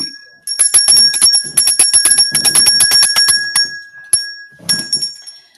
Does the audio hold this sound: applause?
no